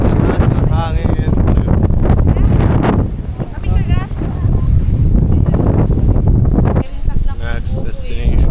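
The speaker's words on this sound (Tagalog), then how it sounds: "Ang lakas ng hangin." Strong wind buffets the microphone outdoors near a golf clubhouse on a Philippine island trip, a loud, steady roar with brief dips, while people speak over it.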